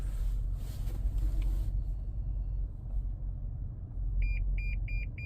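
A 2015 200 Series Toyota Land Cruiser reversing toward a door sounds its rear park assist: four short, evenly spaced beeps near the end over a quiet, low engine rumble.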